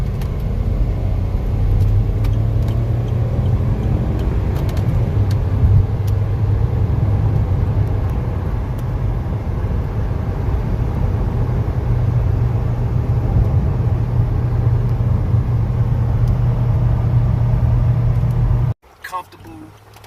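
A 2006 Range Rover Sport HSE with a V8 on rebuilt air suspension drives along, a steady low engine and road rumble filling the cabin with no break until it cuts off near the end.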